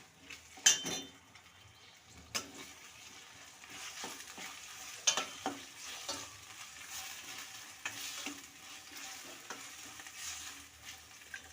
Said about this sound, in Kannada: ನಾಲ್ಕು ಟೊಮೊಟೊ ಚಿಕ್ಕದಾಗಿ ಹೆಚ್ಚಿಟ್ಕೊಂಡಿರೋ ಟೊಮೊಟೊ ಹಾಕ್ತಾ ಇದ್ದೀನಿ ಇದನ್ನು ಕೂಡ ನಾನು ಎಣ್ಣೆಯಲ್ಲಿ ಫ್ರೈ ಮಾಡ್ಕೊಳ್ತೀನಿ